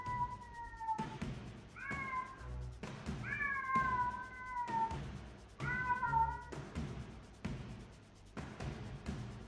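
A pet cat meows several times, drawn-out wavering calls with gaps between them, fairly close, over a low background of game sound and no speech.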